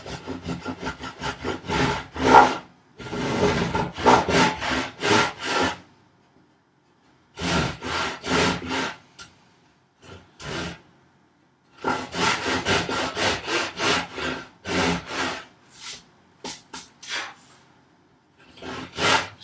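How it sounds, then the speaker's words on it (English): A hand saw cutting the cheeks of a wooden tenon at a carpenter's workbench, brisk rhythmic back-and-forth rasping strokes in several bursts separated by short pauses, close and loud. "I'm going to saw down to my mark, the 2 marks that I made on the 3 sides of my tenon"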